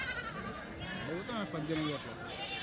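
Goats bleat at a crowded livestock market before a festival, quavering calls rising and falling under steady overlapping talk and a dense crowd murmur.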